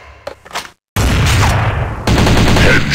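Gunfire from the video game Critical Strike GO, a couple of quick sharp shots followed by a loud, sustained burst of rapid shooting that fills the clip, with no talking.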